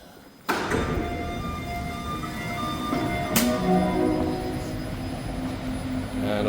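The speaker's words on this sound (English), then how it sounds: "this might be a Deux-Montagnes test train" A Deux-Montagnes test train on the REM line near Brossard Station starts up abruptly, then holds a steady, close mechanical rumble with faint whining tones and a brief sharp accent midway.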